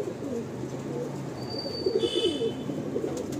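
A male pigeon in a loft gives low, rolling coos nearby, steady at first and then a fuller burst partway through, with faint higher chirps from other birds.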